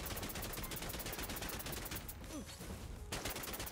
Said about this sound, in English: I'll just use my machine pistols to take it out.